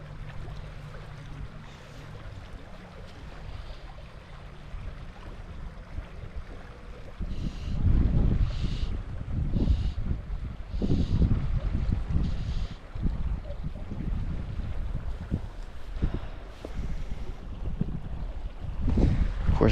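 Wind gusts by a meadow stream during fly fishing: a soft outdoor hush gives way to strong, rumbling buffets that batter the microphone in uneven bursts for the rest of the stretch.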